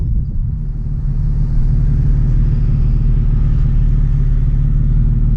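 A Nissan 350Z rolls slowly out of a driveway at an angle, its engine a steady low idle rumble close by with a slight lift in revs, no talking over it.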